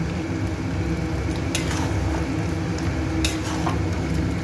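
A spoon stirs butter into coriander chicken in a pan, giving soft scraping and a gentle continuous sizzle with a couple of sharp clinks of metal against the pan. The cooking sounds are close and quiet, and nobody talks.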